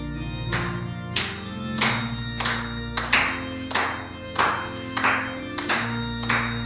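Congregation clapping in steady rhythm while singing a hymn together at a Sunday church service, sharp regular claps about twice a second over sustained sung voices and accompaniment.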